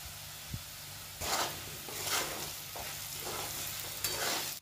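Potatoes frying in a pan while cooking bottle gourd with prawns, a steady close sizzle with bursts of stirring and scraping, no voices.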